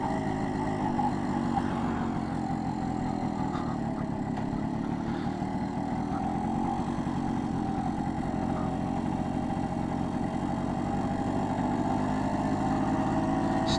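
A small two-stroke engine on a BSA Bantam D3 motorcycle puttering steadily while riding along, a continuous modest buzz with slight variations in pitch and no talking.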